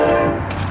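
An FXE SD70ACe diesel locomotive leading a manifest freight train in El Paso, Texas, gives a steady, droning tonal rumble, close and fairly loud, in a brief burst.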